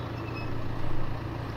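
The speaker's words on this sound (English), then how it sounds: "It's not a bad little tractor." A small tractor engine in Farming Simulator 17 drones steadily at low pitch, a continuous close rumble that swells slightly midway, with no voices over it.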